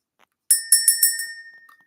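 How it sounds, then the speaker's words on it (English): A small bell is struck about five times in quick succession, each ring clear and close with a bright metallic shimmer that fades away afterward. "Let's ring the bell."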